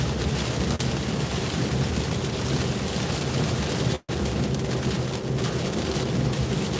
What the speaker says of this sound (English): Oh yeah, it's a good soaking rain.